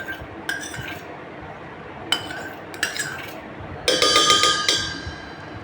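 A spoon clinks and scrapes against a bowl of yogurt in a few separate bursts, ending in a quicker run of ringing taps while the yogurt is stirred.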